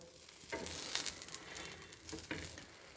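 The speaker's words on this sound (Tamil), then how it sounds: "நல்லா இதை ப்ரெஸ் பண்ணி ஃப்ரை பண்ணிக்கலாம்" A bread and paneer sandwich fries in oil in a pan as an evening snack, giving a steady close sizzle with a few brief louder crackles and scrapes of being pressed down.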